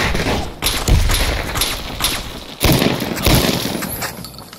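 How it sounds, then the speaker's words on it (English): Dense gunfire shootout in Fallout New Vegas with modded weapon sounds, heavy overlapping shots and thudding impacts in a loud continuous war-zone barrage with no talking. "Shootouts now sound like a proper war zone."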